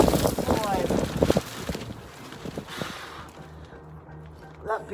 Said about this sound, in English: That big gust of wind.